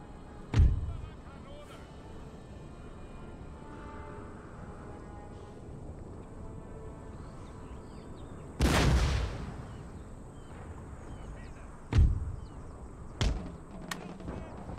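Mortar artillery fires on a Napoleonic-era battlefield in Empire: Total War, with a few scattered booming thuds over a steady background rumble and one heavier blast near the middle.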